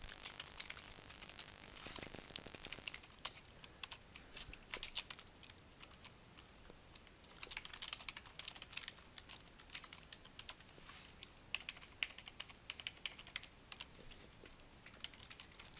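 Steady typing on a computer keyboard while filling out an online payment form, a faint, continuous patter of key clicks in short bursts with brief pauses, heard alone.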